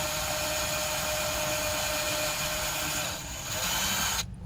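A power drill bores a hole into a cabinet inside an overlanding Land Cruiser, a continuous loud whine running steadily for several seconds before dipping briefly and cutting off.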